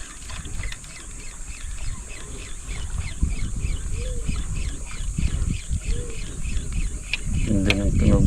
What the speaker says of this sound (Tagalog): Ganda ng tunog ng ibon.